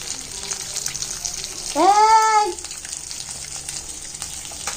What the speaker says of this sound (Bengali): মাছটা ভেজে ফেলেছি